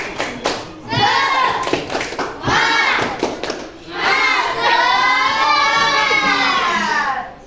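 A sixth-grade Indonesian language class performs a 'tepuk semangat' clap chant: sharp rhythmic handclaps open the routine, then many children's voices shout and chant together loudly and close by, with a few claps between the chanted phrases.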